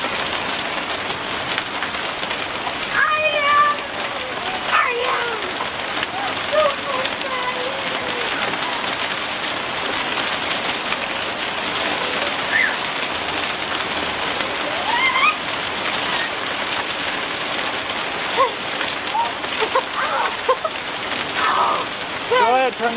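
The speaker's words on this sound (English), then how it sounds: "It's hailing." Hail falls on a yard in a dense, steady patter of many small hits, with a faint voice under it.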